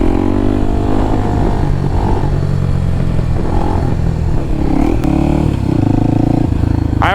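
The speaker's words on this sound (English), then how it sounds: "So I'm gonna do another wheelie here for you." A motorcycle engine revs hard and holds high during a wheelie, loud and close throughout, with a steady drone that rises in pitch near the end and a brief clatter partway through.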